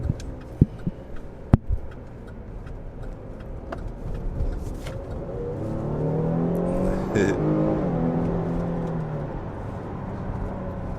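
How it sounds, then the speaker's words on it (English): A Chevrolet Blazer RS in sport mode accelerates from a roll, its engine note rising into a steady building roar heard from inside the cabin, with a few clicks at the start and no talk. "I'm about to see how sport mode does from like a roll."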